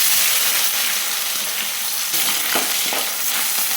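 Onions and green chillies sizzle steadily in hot oil with cardamom, cloves, cinnamon and shahi jeera, a loud continuous frying hiss with a few stirring scrapes, no voices.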